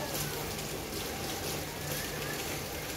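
Steady rain falls in a Hong Kong village under dark skies, a dense, even hiss of drops on surfaces, moderately quiet and unbroken throughout.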